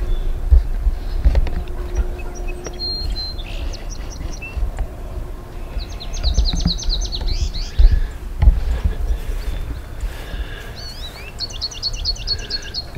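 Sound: bird chirping at its nest

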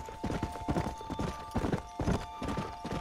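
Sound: horse hooves in a video game

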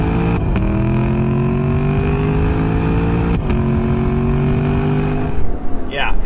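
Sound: Lexus LC500 Convertible engine downshifting in Sport Plus

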